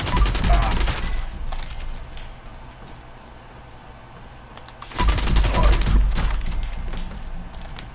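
Rapid bursts of gunfire from a quad-barrel Elder's Mark rifle fired at the strongest super mutant in Fallout 76, with two loud volleys about four seconds apart and quieter game ambience between them.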